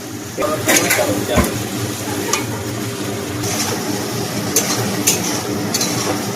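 Capsicum and onion frying in a pan as the base for chilli chicken, a steady sizzle with occasional stirring clinks and bursts of spatter, people talking over it.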